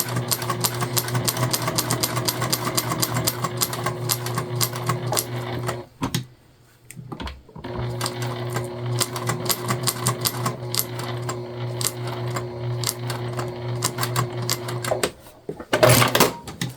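A sewing machine stitches quilting lines across a quilt in long, steady bursts of fast needle chatter, pausing briefly around the middle and then resuming, with a few sharp clicks and knocks toward the end.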